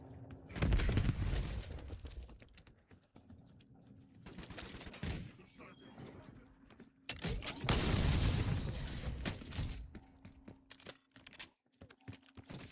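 Gunfire bursts and explosions in a Black Ops 7 shooter game, loud clustered volleys at the start and again near the middle with quieter rattling between, a voice talking over the action.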